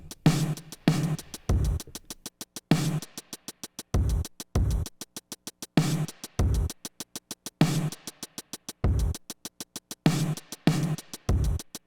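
Sequential Drumtraks drum machine pattern through a bus compressor: heavy kicks and snares over fast, even hi-hat ticks, looping tightly and loudly for several bars.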